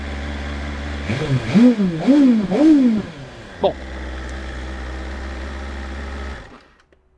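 A BMW M 1000 XR motorcycle engine idles, then revs sharply three times in quick succession and blips once more before settling back to a steady idle; a brief voice.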